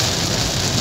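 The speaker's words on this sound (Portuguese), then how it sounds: "Porque realmente é chuva grossa e a gente perde muita visibilidade." Heavy rain pours on a road during driving with poor visibility, a dense, loud, steady wash of noise with no voices.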